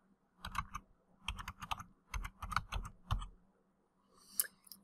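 Quick bursts of keystrokes on a computer keyboard, several short clusters of clicky typing separated by brief pauses, heard close and alone in a quiet room.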